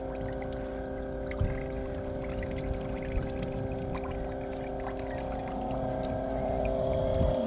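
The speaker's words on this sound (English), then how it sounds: "I'll help prime the pump a bit." A front-loader washing machine's pump primes with water flowing through it, a steady humming drone with pouring, trickling water beneath, quiet and continuous, with a few faint clicks and no talk.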